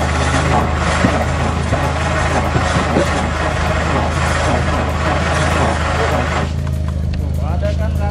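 A Nissan Cefiro drift car's starter cranks its engine in a trial, a loud, continuous low mechanical churn that runs nearly throughout before cutting off near the end, with people talking over it.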